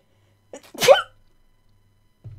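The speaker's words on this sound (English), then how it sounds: "Oh my god, there was so much build up to that sneeze." A single sharp sneeze with a brief inhaled build-up just before it, close and fairly loud in a quiet room, followed by silence and a faint rustle.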